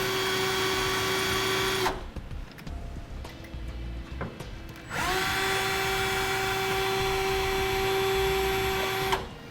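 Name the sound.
power drill drilling holes in metal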